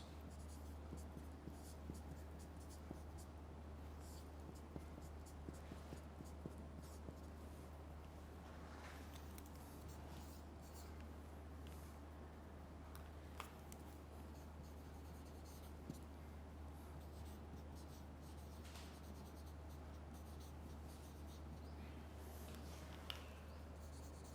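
A pen scratches across paper as an English grammar formula is written out during a lecture, with faint intermittent strokes under a steady low hum and no clear speech.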